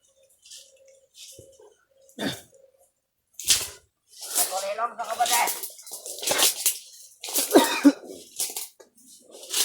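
A few short, harsh coughs from a nearby person, with quiet talk at the start, then louder, busy voices and rustling filling the rest.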